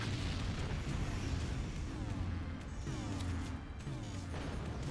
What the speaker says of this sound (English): I'm shooting some mines